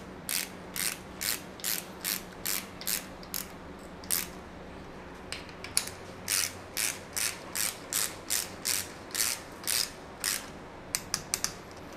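A 3/8-inch torque wrench ratcheting in repeated short bursts of rapid clicks while tightening bolts on a Yamaha 125 motorcycle engine casing, close and clear in a quiet workshop.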